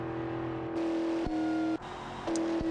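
A 1964 Gavril Bluebuck 353 WSP car engine holds a steady droning hum, close and loud, with brief dips and shifts in pitch as it changes gears, and no one speaking.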